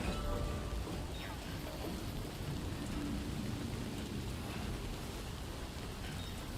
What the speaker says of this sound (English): Rain, rain.